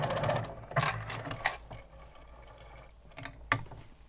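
A sewing machine back stitching on a sleeve gives short mechanical bursts of whirring and ratcheting, separated by pauses and ending with a sharp click.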